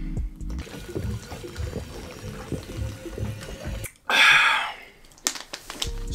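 Water pouring into a glass or container for a drink, a short splashing gush after some background handling noise, close and fairly loud.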